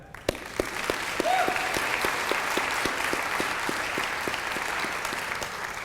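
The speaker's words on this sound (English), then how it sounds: "let's give a round of applause to the committee that helped make this all happen." Conference audience at a low-carb event giving a round of applause for the organizing committee, steady crowd clapping with a few sharper individual claps standing out at regular intervals, moderately loud throughout.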